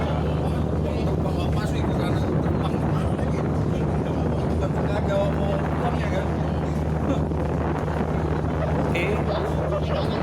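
A ferry's engine rumbles in a constant low drone while departing Ambarita harbor on Lake Toba, heard from on board with people talking over the steady noise.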